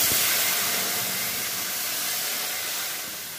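Boiled dal poured into hot fried cumin and chilli tempering, giving a loud, broad steamy hiss that starts at full strength and eases slightly toward the end, with no voices.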